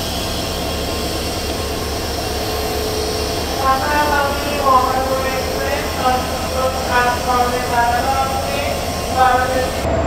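Mohanagar Express, a meter gauge train hauled by a 3000 series AC locomotive, rolls along with a constant loud rumble, and rhythmic wheel clatter builds partway through.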